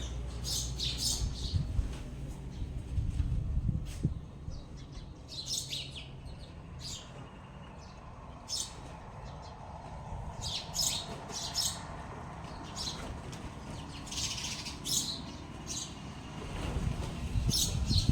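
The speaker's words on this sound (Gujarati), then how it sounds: "ચકલા દેકારો કરે છે જો માળા કરી કરીને।" Sparrows chirp and squawk noisily around their nests in a Gujarati village, bright bursts of tweeting coming in clusters over a low rumble of wind and background noise.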